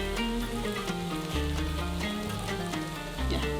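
Lebanese kefta grills over very high heat with a steady sizzle and crackle, blended under loud background music with a strong low bass line.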